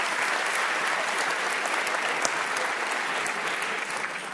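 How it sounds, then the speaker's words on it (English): An audience at a high school event gives sustained applause, a dense, even wash of clapping that holds steady throughout with no break. "Let's stand up and get an applause."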